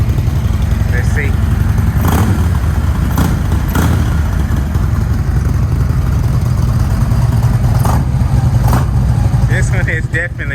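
A 2009 Harley-Davidson motorcycle with a loud aftermarket exhaust rumbles and revs steadily up close, low throaty pulses filling the whole stretch while someone talks over it.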